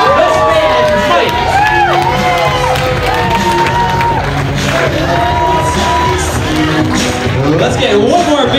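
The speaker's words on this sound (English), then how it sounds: "we need you to make some noise for the dapper gentlemen tonight" Wedding reception crowd cheers loudly for the groomsmen, a dense roar of whoops, shouts and rising yells filling the room throughout, with voices layered over one another.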